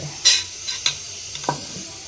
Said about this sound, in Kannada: ಒಂದು ಸ್ವಲ್ಪ ಎಣ್ಣೆ ಹಾಕ್ಕೊಂಡು ಫಸ್ಟ್ ಹಸಿಮೆಣ್ಸಿನ್ಕಾಯಿ ಮತ್ತು ಉಳ್ಳಾಗಡ್ಡಿನ ಕೊಂಡ್ಬಿಡ್ಬೇಕು